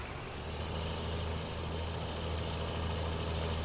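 A new tractor's engine idles in Farming Simulator 19, a steady, low diesel rumble with a broad even hum held at moderate volume with no talk over it.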